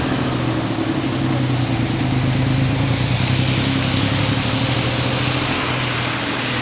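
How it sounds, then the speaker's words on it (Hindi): Busy street traffic near the Grand Palace in Bangkok, with local tuk-tuk rickshaws among the vehicles. Engines idle and rumble steadily at close range, forming a dense, continuous traffic wash with no voices. "और ट्रैफिक बहुत ज़्यादा है।"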